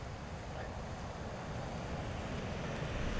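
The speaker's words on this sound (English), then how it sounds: "And there's the river, you can probably hear it." A mountain river in Snowdonia rushes steadily nearby, a continuous broadband wash of water mixed with some wind noise, with no voices.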